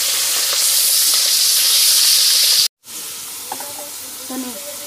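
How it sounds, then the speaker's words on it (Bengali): Pieces of rohu fish fry in hot oil with a loud, steady, close sizzle that cuts out for a moment and then resumes with faint stirring. "তো আমার তেলটা গরম হয়ে গেছে, এবার মাছগুলো ভেজে নেব।"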